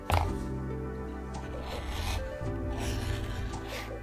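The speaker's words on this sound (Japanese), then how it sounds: "表側裏側とへりを落とします。" A leather glasses case has its edges beveled with a hand tool, giving quiet, close scraping and rasping strokes in a loose rhythm over a steady low hum.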